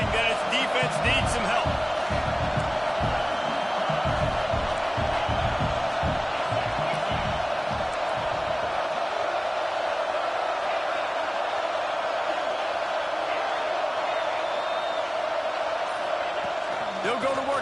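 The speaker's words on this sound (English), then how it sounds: "This crowd rising up, sensing that its defense needs some help." A stadium crowd roars steadily in the NCAA 26 college football video game, a loud continuous swell of cheering under a commentator's voice.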